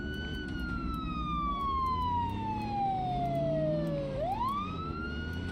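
A wailing in-game siren from Project Zomboid sweeps steadily downward in pitch, then jumps back up near the end, looping loud and continuous over a low rumbling background with no talking.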